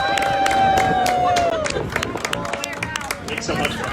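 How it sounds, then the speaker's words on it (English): A crowd at a Sunrise Boston climate-movement talk bursts into loud, close applause with cheering and a whistle, the clapping thinning slightly toward the end amid chatter. "Keep the applause going"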